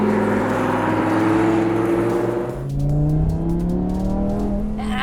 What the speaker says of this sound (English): The acceleration is just manic.